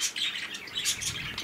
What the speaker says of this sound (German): Vögelchen quatschen auch noch.